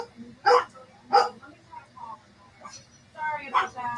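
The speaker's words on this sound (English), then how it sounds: "That's dogs barking." Several dogs barking in short bursts, a couple of loud close yelps early on and a looser cluster near the end, with quieter chatter and room noise between them.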